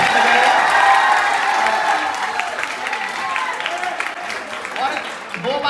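Loud college-hall audience applause with cheering, dense clapping filling the whole stretch alongside scattered crowd voices and shouts, tapering slightly toward the end.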